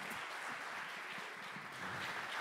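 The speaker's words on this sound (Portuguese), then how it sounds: "Uma salva de palmas para os nossos astros!" Audience at a stage hypnosis show applauding the volunteers on stage, a continuous dense round of clapping heard at moderate distance without talking.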